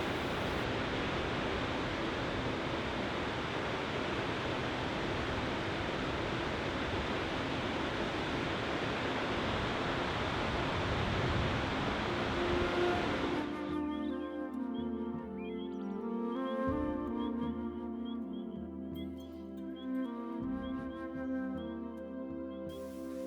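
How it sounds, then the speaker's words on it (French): Mountain torrent and waterfalls of Salles near Sixt, alpine setting: a loud, steady rushing roar of falling water, close and continuous, shifting midway into a thinner, more tonal splashing with faint chirps over it, no voices. "En remontant le torrent de Salles, on découvre les cascades de Salles et de Trénan jusqu'à sa résurgence."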